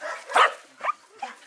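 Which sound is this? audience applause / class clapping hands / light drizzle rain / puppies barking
puppies barking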